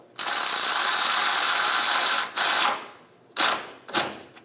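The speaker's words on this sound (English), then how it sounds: "Snug the bolt down." A ratchet tightens the ground strap bolt on the fuel tank of a Chevrolet Express 2500 van, giving a long buzzing run of rapid clicks and then several shorter bursts, close and loud.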